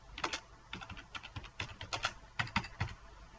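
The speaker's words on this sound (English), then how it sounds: "Type in your deployment account information." Quick, light taps on a Samsung tablet's keyboard while account details are entered, irregular bursts of clicks in short runs with brief pauses, close and quiet.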